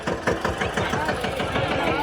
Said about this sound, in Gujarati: ફાઇનલી આ ટ્રેક્ટર છે આપણા ભેગું